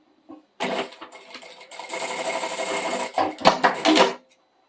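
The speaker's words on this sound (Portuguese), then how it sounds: "pelo lado do avesso, eu vou fazer uma costura aqui, vou emendar" A sewing machine sews a seam joining two fabric strip ends on the wrong side, a close steady motor whir with brief stops and uneven spurts toward the end, no talk over it.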